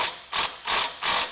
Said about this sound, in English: take out these two bolts. They're 14.